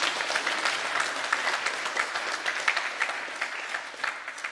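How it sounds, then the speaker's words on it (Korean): A church congregation applauds during a Sunday service, a continuous dense clatter of many hands clapping at moderate distance, steady for several seconds without voices rising above it. "우리 차국호 형제에게 먼저 드릴 때 박수로 격려해 주시죠."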